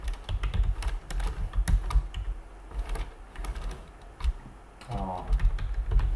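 Python code being typed on a computer keyboard: bursts of crisp, close key clicks in uneven runs with short pauses, while someone talks quietly between the strokes.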